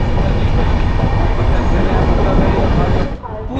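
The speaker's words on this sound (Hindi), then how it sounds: "2 मिनट के होल्ट के बाद अपनी ट्रेन निकल चुकी है दुर्गापुर से हावड़ा के लिए।" Jan Shatabdi Express rolling out of Durgapur toward Howrah, its steady, loud broadband rumble filling the carriage before dropping away sharply near the end.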